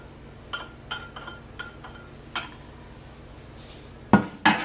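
Spoon clinking against a container while mixing gelatin into sweetened French pressed coffee, several light taps at a loose rhythm, then two louder sharp knocks near the end.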